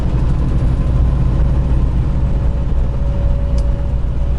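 A heavy dump truck on a Tennessee highway, its deep engine drone and road rumble steady and loud throughout, with no talk.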